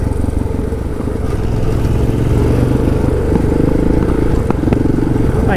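An Aprilia motorcycle rides off-road on a group adventure ride near Brisbane, its engine droning loud and steady throughout with a rough, clattering edge from the trail.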